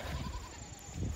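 Goats bleating on a homestead after slipping out past a faulty electric fence, a few nearby calls overlapping in a short burst with no talk.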